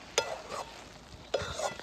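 Coconut barfi sugar syrup is stirred in a kadhai, giving two close scraping strokes of a spoon across the pan with a faint bubbling sizzle between them.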